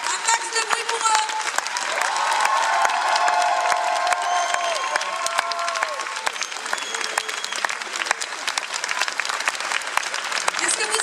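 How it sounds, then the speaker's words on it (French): Audience at a fan convention conference applauding loudly, a sustained roar of many hands clapping with cheers and whistles, with some voices in the crowd. "Je vous demande vraiment d'applaudir très très fort François, Raphaël, Ludovic"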